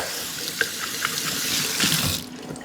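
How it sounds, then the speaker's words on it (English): Hands are rinsed under a running kitchen tap, with a continuous splashing rush of water and small irregular spatters, close by, before the flow cuts off near the end. "rinse my hands real fast"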